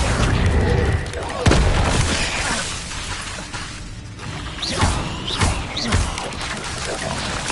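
Bombarda explosion spells in Hogwarts Legacy on PS5 go off in loud, booming bursts amid other spell effects, several impacts in a row with brief crackling debris between them.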